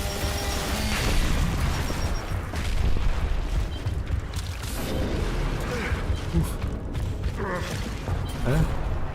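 A grenade goes off in Dead by Daylight: a heavy boom and rumble mixed with creaking and clanking in-game machinery, loud and close, with a few rough swells across the stretch.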